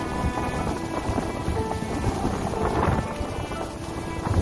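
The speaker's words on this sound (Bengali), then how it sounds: "ধুম বৃষ্টি হইতেছে।" Heavy rain with rumbling thunder pours steadily around a river launch in the Sundarbans, a loud continuous hiss and low roll heard alone without voices.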